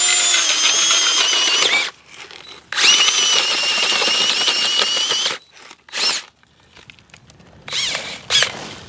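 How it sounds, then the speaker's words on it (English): Gas-powered auger boring planting holes into rocky garden soil, a loud whining engine running in long bursts with short pauses and gravelly scraping between holes, near and alone. "So basically, we're just going to take the auger."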